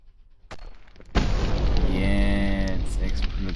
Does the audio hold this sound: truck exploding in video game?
yes